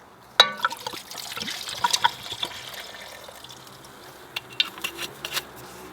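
Red wine goes into a pan of sweated-down onions and garlic, with scattered clinks and splashes and a soft wet trickle, close and fairly quiet.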